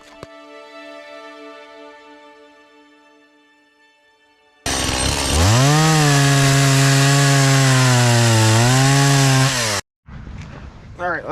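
A Stihl MS 180 chainsaw fires up abruptly after a fading tonal hum and runs loud and near for about five seconds, revving and dipping, then stops suddenly before a short burst of noise.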